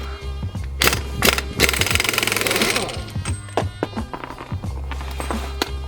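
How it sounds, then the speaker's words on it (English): A hammer strikes a part on a Honda Accord CB7 coupe during a five-lug conversion, delivering several sharp, loud metallic whacks at irregular intervals, with a stretch of noisy rattling and a low steady hum underneath. "Sometimes it takes a few whacks at it."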